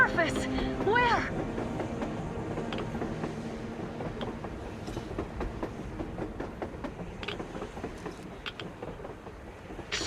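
A train approaching on the surface in the video game Metro Exodus rumbles beneath a dense game soundscape, with voices talking over the low mechanical noise.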